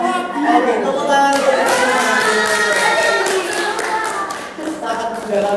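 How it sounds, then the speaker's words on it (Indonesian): Audience clapping at a school group-counselling drama performance on stage, a sustained burst of many hands applauding loudly and steadily for several seconds, with voices mixed in under the claps. "Oke, tepuk tangan."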